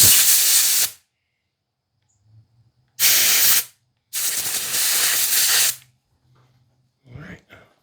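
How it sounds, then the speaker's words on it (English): Compressed air blasts through small engine carburetor jets being cleaned of corrosion on a Troy-Bilt machine: three loud hissing bursts, the last one long, separated by silence, followed by a brief softer puff. "Blow through this with compressed air just to make sure that all of that corrosion that was on this"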